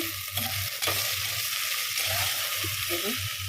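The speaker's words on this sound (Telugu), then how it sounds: "బెండకాయలు మంచిగా వేయించుకోవాలి నూనె వేయకుండా వేయించుతున్నా" Sliced okra dry-frying in a pan with no oil gives off a steady crackling sizzle, broken by repeated scraping stirs, with faint background noise throughout.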